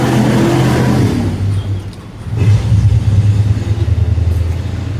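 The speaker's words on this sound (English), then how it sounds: "Hang on, noisy truck." A noisy truck passing on a street in Mexico City, a loud close engine rumble that dips briefly then surges back as it goes by, with broad road noise and no talking.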